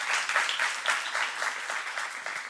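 Church congregation applauding together during a youth service sermon, a steady, dense patter of many hands clapping at moderate distance, sustained evenly for a couple of seconds.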